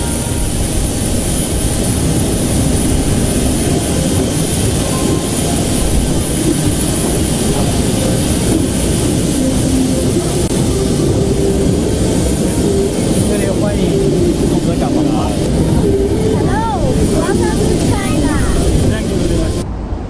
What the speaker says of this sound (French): l'avion du président de la transition a atterri à l'aéroport international de Beijing